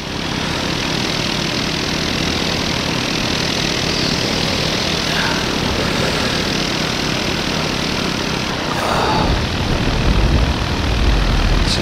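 Paramotor engine roaring during takeoff at a UK paramotor race: a loud, steady, continuous propeller drone throughout with a slight rise near the end, close and dominant with no speech.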